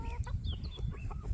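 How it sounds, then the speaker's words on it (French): Pekin bantam hens kept together in a pen give a brief burst of soft, close clucks mixed with a few thin rising peeps, fairly quiet and with no one talking. "la magnifique aperçu de comment mes poules sont sociables"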